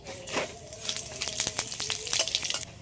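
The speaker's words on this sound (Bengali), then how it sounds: "কড়াইয়ের মধ্যে তেল দিয়েছি, তেলের মধ্যে দিয়ে দিচ্ছি দুটো শুকনো লঙ্কা, গোলমরিচ আর ধনে" Hot oil sizzles and crackles in a pan, with sharp spattering pops growing busier as two dried red chilies, black pepper and coriander are dropped in, close and fairly quiet.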